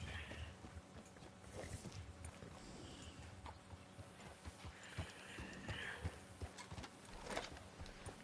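Horse in Red Dead Redemption 2, its hooves clip-clopping in a steady, moderately close rhythm alongside faint creaking tack and mechanical clicks, with no talking.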